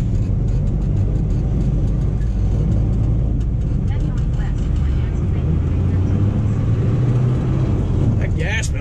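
A diesel dump truck engine pulls in low first gear, a steady loud low rumble and drone holding throughout with some rattles and a brief higher squeal near the end.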